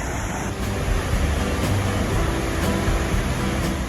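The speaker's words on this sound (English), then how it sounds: "we're coming up on some pretty cool views of this waterfall." A waterfall along the Gorge Trail in the Finger Lakes roars as a steady, dense rush of falling water, broadband and continuous with a low rumble, close by and alone without voices.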